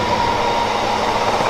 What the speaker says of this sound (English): This is an East Yard to Mount Sorrel aggregate train